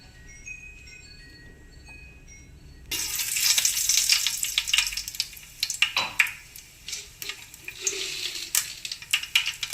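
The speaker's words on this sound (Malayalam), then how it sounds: "ഇനി കടു വറുക്കാം" After a quiet start with faint tones, hot coconut oil bursts into loud, crackling sizzle and rapid popping as mustard seeds fry and spit, continuing unevenly.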